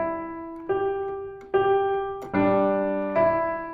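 Piano plays the opening two measures of a simple children's song: five clear, evenly spaced notes and chords ringing out one after another, close and alone with no talk.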